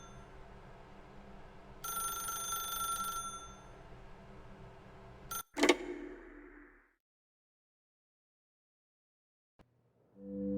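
Telephone ringing in The Stanley Parable: Ultra Deluxe, a short burst of bright ringing near the start, followed by a sharp clatter like the receiver being picked up, then near silence.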